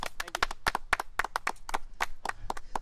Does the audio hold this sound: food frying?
no